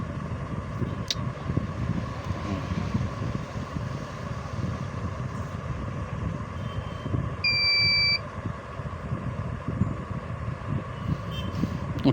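A fingerprint scanner on a shop's ration-distribution billing setup gives one short electronic beep over steady, faint background hum.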